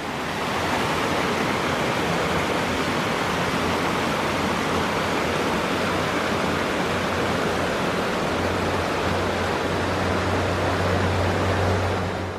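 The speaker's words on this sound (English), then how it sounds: "the upside is that it's right next to a beautiful little stream" A small stream flows beside a campsite in Beaver Canyon, Utah, a steady, close rushing of water that stays even and fills the whole stretch, with a faint low hum near the end and no voices.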